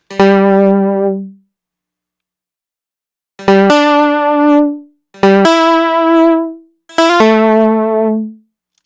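Bright, buzzy synthesizer notes with rich harmonics play in a sparse sequence: one long tone, a pause, then three quick-attack phrases, each shifting pitch partway through.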